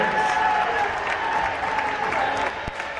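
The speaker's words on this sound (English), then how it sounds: "one last round of applause" A gym crowd at a varsity high school basketball game applauds the Special Olympians in a steady round of clapping, with a low crowd hum and a faint voice underneath.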